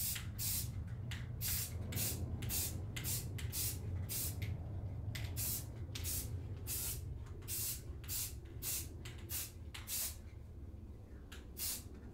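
A spray paint can hisses in a steady series of short bursts, each a sharp blast of spray, close and continuous with no speech, painting computer fan rings on cardboard.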